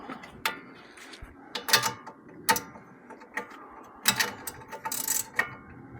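Socket wrench clicking on a bolt of a Porsche 996 suspension during a lower control arm and sway bar link job, sharp scattered ratchet clicks and metallic clinks, close and fairly quiet.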